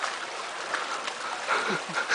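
People wade through a shallow stream on a Pinatubo trek, water rushing and splashing continuously nearby with a few louder sloshes of footsteps, with no voices.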